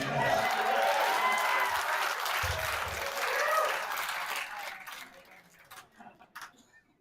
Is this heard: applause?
yes